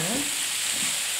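Peppers and apple pieces sauté in a pan with a continuous, close, moderately loud frying hiss that holds steady for a moment.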